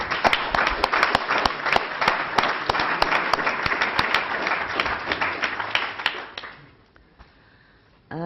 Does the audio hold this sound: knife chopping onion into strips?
no